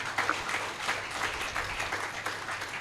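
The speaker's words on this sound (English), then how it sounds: "Please give us a round of applause." An audience applauds panelists at a conference session on sustainable agriculture trade, a steady wash of many hands clapping that holds at an even level throughout, with no voices on top.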